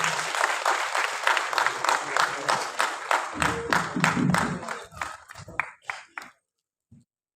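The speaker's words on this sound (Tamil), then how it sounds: "விஜய் ஸ்ரீ ஹரி அவர்களை உங்கள் முன் பெரும் கரகோஷங்களுடன் வரவேற்கிறோம்" A crowd applauds to welcome Vijay Sri Hari at a Tamil film event, loud massed clapping that thins into scattered claps and dies out, with voices mixed in near the end.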